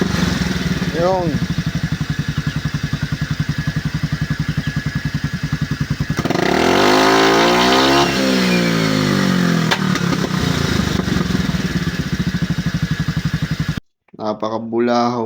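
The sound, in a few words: Suzuki Skydrive 135 carburetor motorcycle engine revving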